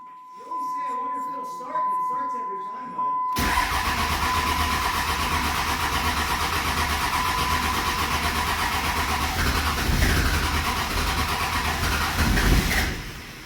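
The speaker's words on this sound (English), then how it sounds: "time to see if we can't get this thing started." A hotshot truck with a newly installed VGT turbo and exhaust brake cranks and catches, a loud steady engine roar rising abruptly after a few seconds of quiet talk and running on without a break.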